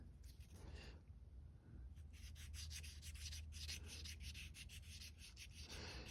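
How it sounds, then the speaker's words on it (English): A model aircraft fuselage is sanded with 220-grit sandpaper glued to a stick, giving steady rhythmic rubbing strokes, close and quiet, with no talking. "I'll start the sanding with 220 sandpaper glued on a stick"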